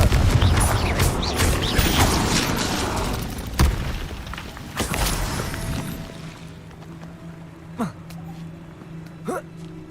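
Confringo blasting spell explosions in Hogwarts Legacy gameplay: a dense burst of booming, crackling impacts up front, then fading into quieter sparse pops and whooshes with a low hum underneath.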